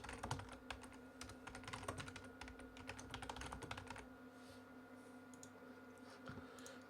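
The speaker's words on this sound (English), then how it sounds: "Typing in all caps." A computer keyboard is typed on rapidly, a dense, steady stream of close clicks for about four seconds before it falls quiet against a low background hum.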